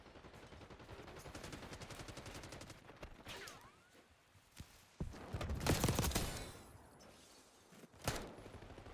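Gunfire in the Call of Duty Black Ops 6 beta, scattered shots and bursts at moderate distance with louder clusters midway and near the end, heard without talk.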